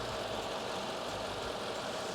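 A Mercedes SL engine idles steadily at close range, a continuous low rumble with a broad hiss of workshop noise layered over it and no break across the short stretch.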